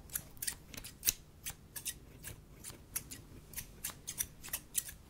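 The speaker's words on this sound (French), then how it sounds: "qui a mieux utilisé les ciseaux?" Repeated crisp ASMR scissor snips, a steady run of sharp cuts close to the microphone with short pauses between them and no talking.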